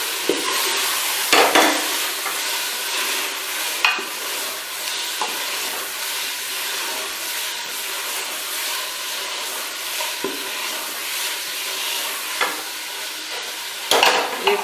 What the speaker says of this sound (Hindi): इसे और भून लेते हैं गरम मसाला डाल के